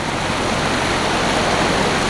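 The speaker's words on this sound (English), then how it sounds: "Rushing Creek." A rushing creek at night, with fast water pouring in a loud, steady broadband roar that holds constant from start to finish.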